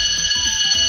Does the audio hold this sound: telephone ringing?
no